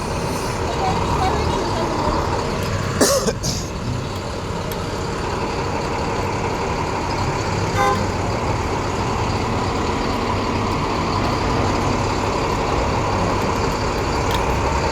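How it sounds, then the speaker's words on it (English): A city bus passing on a road amid steady traffic noise, with a brief air-brake hiss early on, the engine rumble continuous and fairly close throughout. "There's a bus coming."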